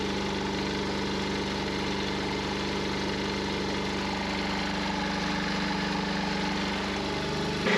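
A generator aboard a sailboat runs unloaded, a steady loud mechanical drone with constant vibration and no pauses from start to finish.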